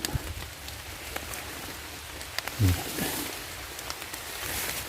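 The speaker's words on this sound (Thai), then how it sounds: "ฝนก็เริ่มเทลงมาแล้วพี่น้อง" Rain begins to fall in a pine forest during mushroom picking, a steady hiss of drops on leaves and surfaces with scattered nearby patters and a soft thump partway through.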